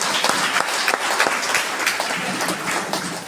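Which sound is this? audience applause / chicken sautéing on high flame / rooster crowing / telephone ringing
audience applause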